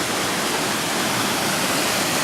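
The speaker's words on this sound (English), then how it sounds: "so we can come and see this little bit of a waterfall here" A small waterfall along a hiking trail pours steadily as a dense, even rush of water. It is loud and continuous, with no voices.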